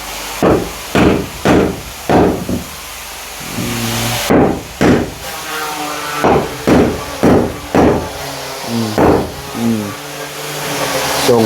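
Nails are driven into wood during a building job, repeated hammer blows coming in a steady run of loud, sharp knocks with short pauses between groups, close by, with no talk.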